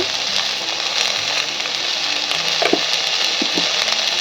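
Okra and pumpkin fry in a hot pan with a loud, continuous sizzle, broken by irregular scrapes and clinks of a spatula stirring the vegetables, close and without talk.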